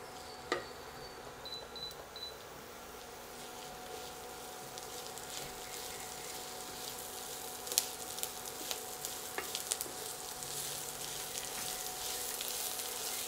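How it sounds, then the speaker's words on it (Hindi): Chopped onions fry in a pan for Rajasthani-style methi sabzi, a faint, even sizzle throughout with a few light clicks and taps from stirring. "कंदा भी अपना अच्छा तलीज गया है"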